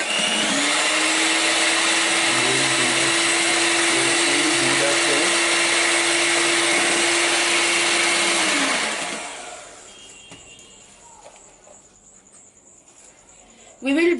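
A kitchen mixer grinder whirs loudly and steadily while grinding cake batter made with refined flour, baking soda and baking powder, then cuts out, leaving quiet room tone and a short knock at the end.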